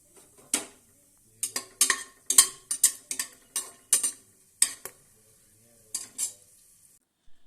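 Whole cardamom, cinnamon and cloves drop into hot white cooking oil in a pan, producing a string of short, sharp crackling bursts and clinks spread unevenly over several seconds, close and fairly loud, with quiet gaps between them.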